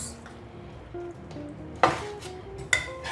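Beef rendang being mixed in a pot, a soft low sizzle with two sharp scraping clanks of a spoon against the pot, near and without speech.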